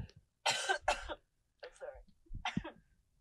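Someone sick with a cold gives several close, harsh coughs and throat clears in short bursts, with quiet gaps between them in a podcast room.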